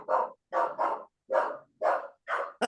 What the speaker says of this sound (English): Oh, someone's dog's not happy.